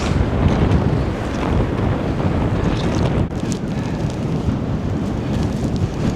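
A strong blizzard wind blows outdoors at an old train station, roaring and buffeting the microphone in a loud, continuous rush with gusts that rise and fall.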